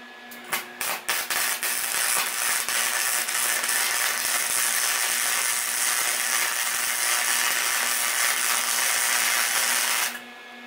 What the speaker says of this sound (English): Alright, we got our first weld.